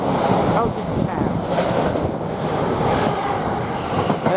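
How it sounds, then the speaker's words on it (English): A train pulls out of Witham Railway Station heading towards Colchester Town, a steady broadband rumble and wheel roar that holds at a fairly loud, even level throughout with no talk over it. "And the other train now departing towards Colchester town."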